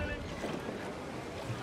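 Sailing ship coming in to dock in Assassin's Creed 4 Black Flag, heard as a quiet, low rush of wind and water lapping against the hull, steady and soft without distinct events.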